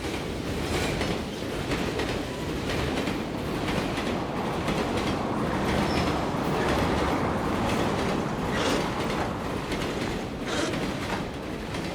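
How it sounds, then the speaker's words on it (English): A train rolls steadily along the rails, a continuous loud rumble with rattling, clattering wheels throughout and no voices. "Trains came to a halt"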